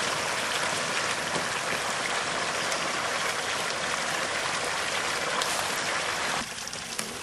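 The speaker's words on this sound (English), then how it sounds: "I'm getting a lot more flow over my little waterfall right there now." Water pours steadily over a little waterfall into a settling pond in a backyard permaculture pond system, a dense, even rushing hiss that briefly drops in level near the end.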